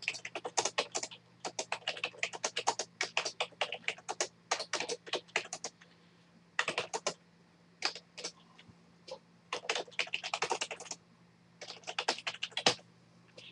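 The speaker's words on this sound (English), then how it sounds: "as I type in" Typing on a computer keyboard, close and clear: quick bursts of crisp key clicks separated by short pauses, repeated over several seconds with a faint steady hum beneath.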